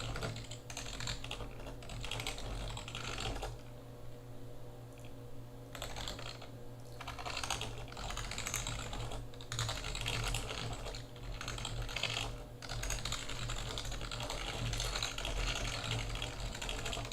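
Fingers typing on a computer keyboard: steady, rapid runs of close key clicks with brief pauses between bursts, set against a constant low room hum.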